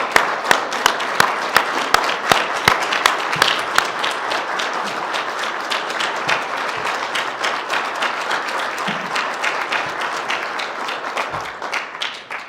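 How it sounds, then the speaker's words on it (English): An audience at a city's State of the City address claps in a sustained, dense round of applause lasting over twelve seconds, steady and fairly loud before tapering slightly at the end. "I ask everybody to please join me in a round of applause for Chief Stout."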